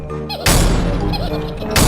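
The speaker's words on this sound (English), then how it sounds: "The more the trucks banged and bumped into each other, the harder the engines hit them." Toy trucks pushed by toy engines bang and bump into each other, with a loud thunk near the start, a dense stretch of clattering knocks, and another heavy hit at the end.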